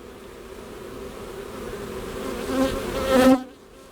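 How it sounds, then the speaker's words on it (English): A dense buzzing of many bees around stacked hive boxes, steady and close, swelling louder near the end before suddenly dropping away. "See all those bees that was behind me?"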